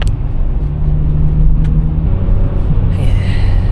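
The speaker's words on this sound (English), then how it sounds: "the exhaust, you can probably hear it a little bit more" Low, steady exhaust drone from a BMW 3 Series E46 2.2 driving on wet roads, heard from inside the cabin as a continuous rumble with a brief hiss of spray near the end and no talking.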